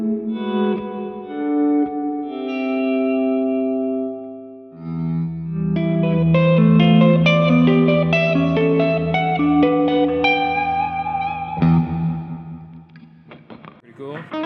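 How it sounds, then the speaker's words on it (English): An Ibanez SDR-1000+ rack unit processes sustained synth-like tones through dual reverb, with a different reverb on left and right, giving long washy tails, chorus-like shimmer and echoing decays across chords that swell and fade. "these should actually be dual reverbs"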